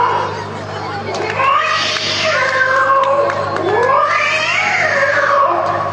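A person vocally imitates cats fighting, making loud, close, drawn-out wailing meows and yowls that rise and fall in pitch, with a faint crowd in the background.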